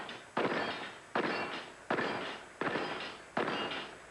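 Five evenly spaced pistol shots crack at steel plates in a competitive shooting match, each sharp report followed by a short ringing decay, loud and regular with no voices.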